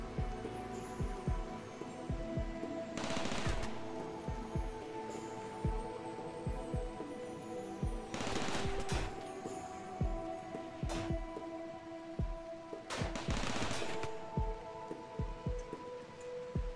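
Automated turrets fire in RimWorld, a steady run of sharp, regular clicking shots over a constant low hum, with louder bursts of rapid fire swelling up three times.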